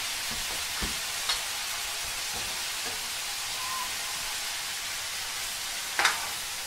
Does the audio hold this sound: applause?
no